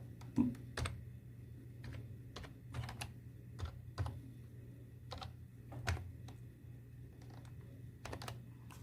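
Steady typing on a computer keyboard while entering a PAN card number, with distinct clicking keystrokes in irregular bursts and clusters, close and clear against a quiet room background.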